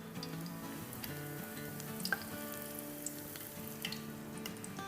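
Onion pakoras fry in a pan with a soft, continuous sizzle and light crackle, faint and steady, with occasional small pops and a low tonal hum underneath.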